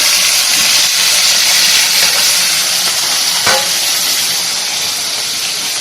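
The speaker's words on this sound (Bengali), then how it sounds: "এদিকে মাছটাও তোমাদের দেখিয়ে দিই, ভাজা হচ্ছে।" Koi fish frying in oil in a pan gives a steady, loud broadband sizzle with hiss and a brief stir or scrape near the middle, no voices.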